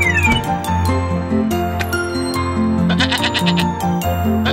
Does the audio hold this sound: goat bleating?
yes